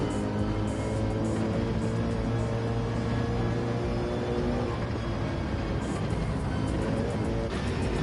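Gr.3 race cars lapping the Dragon Trail circuit in Gran Turismo 7, several engines droning together in a steady, loud, continuous roar with shifting pitch as cars brake and accelerate through a chicane.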